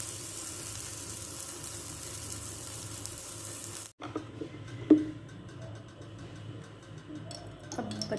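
Shami kebabs fry in a pan with a close, steady sizzle that drops abruptly to a quieter crackle, dotted with small ticks and pops, with no one speaking.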